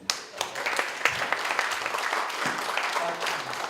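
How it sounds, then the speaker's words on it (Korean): A modest audience at a Mirae Saehan appraisal firm event breaks into applause, a dense, fairly soft wash of clapping that holds steady for a few seconds. "박수 한번 부탁합니다"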